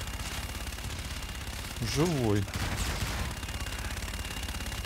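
Gunfire from the Call of Duty Infinite Warfare video game, a burst of rapid shots under constant battle noise, with a voice briefly speaking.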